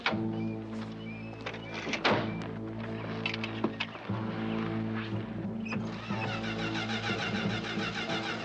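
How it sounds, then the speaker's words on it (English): A car engine cranks repeatedly without catching, a steady mechanical churning with thumps partway through and a shift in tone near the end. "this car does not start"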